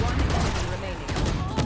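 Gunfire in Valorant during a competitive Challengers NA match, dense shots crackling across the clip with speech-like sounds mixed in and no clear pause between bursts.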